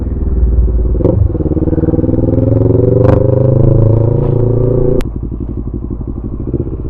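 Adventure motorcycle riding a mountain road in Mountain Province on a cloudy day, its engine a steady close droning rumble with clattering bumps, a sharp click near five seconds before the engine note drops to a lower idle-like putter.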